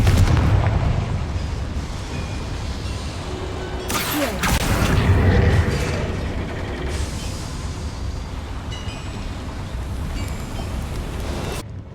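A spell-cast explosion in the Hogwarts Legacy video game erupts as one loud burst about a third of the way in, with a low rumble and echo fading over a steady game ambience.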